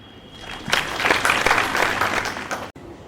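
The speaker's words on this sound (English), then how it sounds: "Please welcome him with a great applause." An audience at a pharmacy institute event applauds an institute director, a dense burst of clapping that swells, holds for about two seconds, then stops abruptly.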